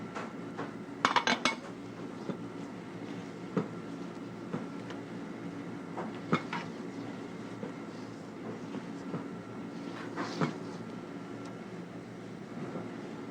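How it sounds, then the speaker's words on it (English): Beaten eggs folded into pistachio brownie batter in a mixing bowl, with steady soft scraping and a few sharp clinks of a utensil against the bowl, close and fairly quiet, with no talking. "We'll then fold in our eggs, which have already been beaten."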